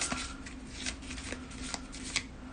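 A treasure deck of game cards shuffled by hand, with quick riffling bursts and soft slaps repeating in an uneven rhythm, close and fairly quiet.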